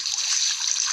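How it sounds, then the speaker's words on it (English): Water splashes onto a face at a bathroom sink in the video game Life is Strange, a brief close wet splatter and slosh lasting about a second, heard alone. "splashing my face"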